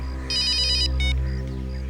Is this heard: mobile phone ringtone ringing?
yes